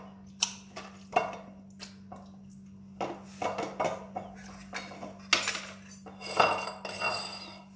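Metal utensils scrape and clink against a dish while marinated sardines are tossed and mixed, in irregular bursts of close, fairly loud clattering with short pauses between them.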